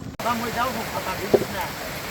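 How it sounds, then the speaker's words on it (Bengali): Heavy rain pours over a waterlogged village vegetable plot where fish are being caught with a push net, a steady background hiss under a person talking, with a short knock partway through. "বৃষ্টি মুসুল ধারে হলছে"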